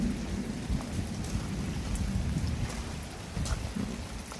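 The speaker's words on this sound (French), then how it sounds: "l'orage, il est pas si actif que ça" Steady rain pours during a thunderstorm in Montady, with a low continuous rumble and scattered close drops hitting surfaces.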